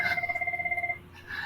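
A telephone bell rings in a steady rapid trill for about a second, fairly quiet and alone, then stops.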